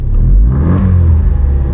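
A modified Opel Blazer with an aftermarket exhaust revs hard, a loud deep close-up rumble that swells and then holds at a throaty drone for the whole short burst.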